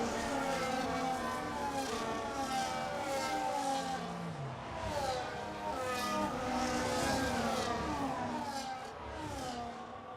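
Race cars from a sim racing game at a Jeddah GP round, engines droning and shifting pitch continuously at steady loudness, several cars overlapping with no talk.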